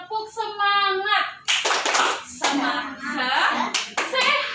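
An adult and schoolchildren in a fourth-grade classroom do a rhythmic 'tepuk semangat' clapping chant, with bursts of hand claps in a patterned beat interleaved with chanted voices.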